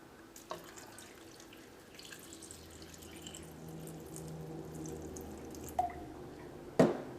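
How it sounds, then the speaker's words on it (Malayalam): Water trickles and drips into a cooking pot of ash gourd for a Kerala olan, a soft close pour building gently with a couple of sharp clinks of a vessel. "അപ്പോൾ അതനുസരിച്ച് നമുക്ക് വെള്ളം ചേർക്കാം."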